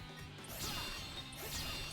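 Rocks shatter into small pieces in a Sonic video game, two loud crashing bursts about a second apart over steady game music and effects.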